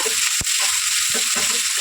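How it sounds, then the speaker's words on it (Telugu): Thinly sliced onions hitting hot oil in a pan for a mushroom fry, a loud continuous sizzle with stirring clicks and scrapes over it. "ఇదిగోండి ఆయిల్ వేడైంది ఉల్లిపాయలు వేసేస్తున్నాను"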